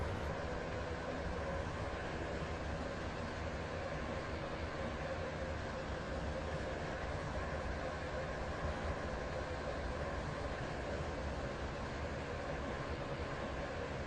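A Roblox Stepford County Railway Waterline train running between Benton and Greenslade gives a steady, continuous rumble and hum that holds at an even loud level the whole way through, with no breaks.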